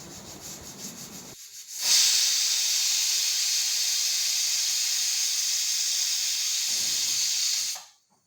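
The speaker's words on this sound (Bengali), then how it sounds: "এবার প্রেসার কুকারে ঢাকনাটি দিয়ে দিলাম। আমি 6টা সিটি দেব।" A pressure cooker of kalai dal with banana stem lets off one loud, sharp burst of hissing steam that lasts about six seconds and then cuts off abruptly.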